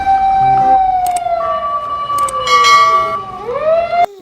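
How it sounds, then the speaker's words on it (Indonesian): A toy fire truck's siren wails loud and close, a long falling tone that swoops back up near the end, with a few brief clicks and knocks from the toy in between. "Mobil pemadam kebakaran."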